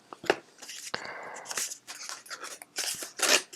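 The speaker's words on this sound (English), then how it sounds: "All right, so I will open this little envelope" Fingers work open a small paper envelope from a craft prize package, with crisp crinkling, tearing and rustling in short bursts that come close and fairly loud.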